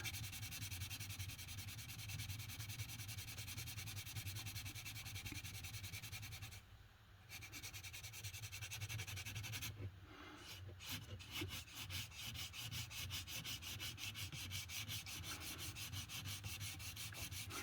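A high spot on a plastic weld is sanded down with steady, close scratchy rubbing that runs almost without a break, one brief pause in the middle, quiet overall.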